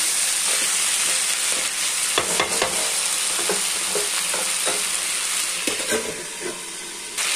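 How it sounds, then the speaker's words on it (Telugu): Capsicum sizzling and frying in a pan for a curry, steady crackling hiss with several sharp scraping stirs of a utensil, close and fairly loud, no talk. "కప్పు క్యాప్సికమ్ వేసుకొని బాగా మగ్గనించుకోవాలి"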